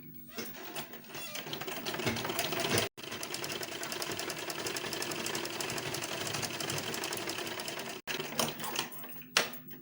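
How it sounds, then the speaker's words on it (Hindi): A sewing machine stitching a blouse runs in a steady, loud, fast mechanical whir, stopping briefly twice before resuming, with no talk over it. "और इसको सिलूँगी एक पैर के मार्जिन के हिसाब से"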